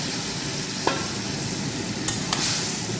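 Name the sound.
cauliflower sautéed with curd and ginger paste in pan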